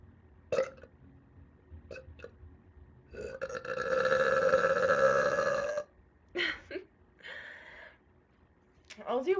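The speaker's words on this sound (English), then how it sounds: "I'll do one more because I feel like those weren't even my biggest burps." A young woman lets out a series of burps: a few short ones, then a long drawn-out loud belch, followed by more brief burps and breaths, close and clear.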